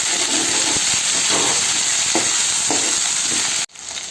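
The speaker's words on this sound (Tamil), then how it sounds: "நல்லா தக்காளி கரையிற அளவுக்கு வதக்கிடுங்க" Chopped tomatoes sauté in a hot pan for a village-style dry fish curry, with a constant close sizzle and a few soft stirring scrapes before it stops abruptly near the end.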